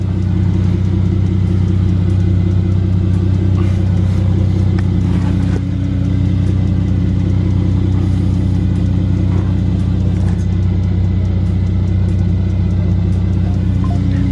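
A Mercedes-AMG C43 engine idles during a thermostat replacement and coolant flush, a loud, steady low drone with an even hum and no change in pace throughout.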